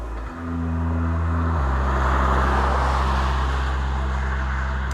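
A 2020 Kia Picanto city car with a small petrol engine cruising on the open road, a steady low engine drone with road and wind noise, loud and continuous after a brief shift in pitch early on.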